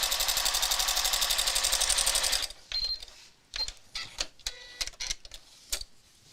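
Sewing machine stitching a test piece of fabric: a fast, even mechanical whirring with a steady rhythmic chatter runs for a couple of seconds, then stops, followed by scattered small clicks and handling noises.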